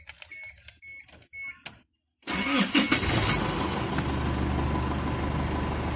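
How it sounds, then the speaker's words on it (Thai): A few soft clicks and taps, a brief pause, then a car engine cranks and catches, settling into a steady loud idle. "สตาร์ทเครื่องยนต์นะครับ"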